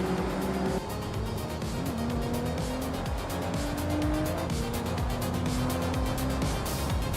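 Race cars from a racing video game, among them a classic 1986 BMW M3, roar steadily throughout with rising and falling engine tones and intermittent tire squeal, loud and close with no talk.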